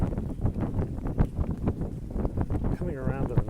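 Gusty wind on a foggy mountainside along the Peak trail in Hong Kong buffets the microphone in low, rumbling surges, with a brief voice near the end.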